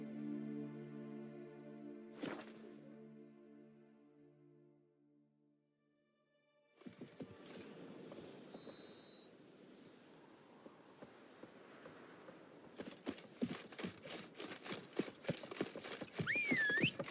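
Roach, a horse in The Witcher 3 video game, whinnies near the start, then hooves clop in a steady rhythm over ambient insect buzzing and game sounds, with no talk.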